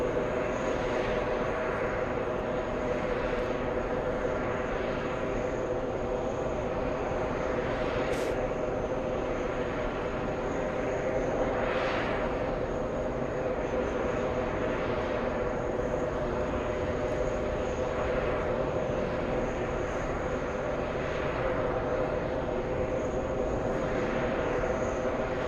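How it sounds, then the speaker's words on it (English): Lufthansa airliner from Munich on short final into JFK, a steady broad engine roar with a faint high whine, fairly loud and continuous throughout. "On short final, we have the Germans, Lufthansa 410. Let's go for it. The flight from Munich."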